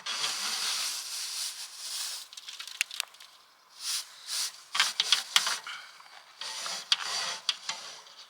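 A cleaning rod pushed down the stove flue pipe on a narrowboat roof: hissing, scraping rubs inside the metal pipe in irregular bursts and strokes, some brief sharp knocks, moderately close.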